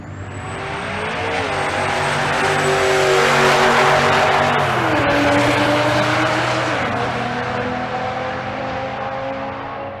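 Two drag race cars roar down the strip at Bandimere during a race week event, their loud engines droning steadily and shifting pitch partway through the run, with the sound swelling and then slowly fading.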